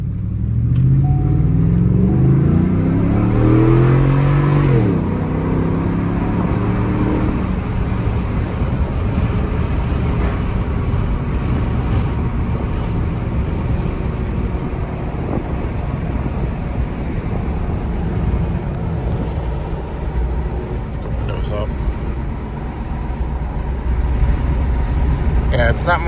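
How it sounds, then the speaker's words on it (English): A Ford F-series truck with a cheap eBay WWP aftermarket exhaust revs with a deep rising engine note, then settles into a steady low rumble with wind buffeting, close to the microphone. "it's a deep sounding exhaust, which I liked"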